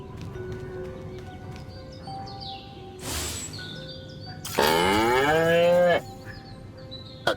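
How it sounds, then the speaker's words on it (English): Cattle mooing in the video game Destroy All Humans! (2020): one loud, drawn-out moo of about a second and a half stands out over quiet game ambience, with a brief whooshing burst just before it. "Again with the moo?"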